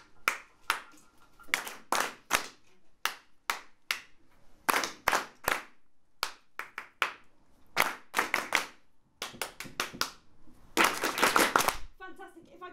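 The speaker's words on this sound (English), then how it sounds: "So I'm going to clap something. You clap it back." Audience at a live ZU-UK performance clapping short rhythmic patterns back, crisp group claps in quick clusters separated by brief silences, ending in a louder, denser burst of clapping.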